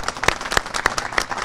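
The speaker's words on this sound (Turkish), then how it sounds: "Ben de sizi alkışlıyorum." Crowd applause outdoors at a public event in Yenikapı, Istanbul, a short burst of dense clapping with a few sharper nearby claps standing out.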